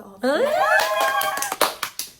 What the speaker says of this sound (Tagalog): Ganyan ang dapat palakpak eh.